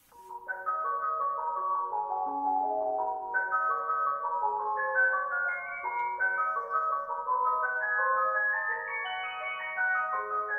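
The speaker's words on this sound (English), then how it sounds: "Ice cream truck." A cheerful electronic ice cream truck jingle from a Tesla car's sound effect feature plays its simple tinkling melody continuously, loud and clear with no other sounds.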